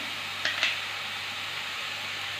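Store-bought ginger garlic paste stirred in a pan for a paneer curry, giving a soft, steady sizzle with a couple of quick spoon scrapes near the start, close and without talk.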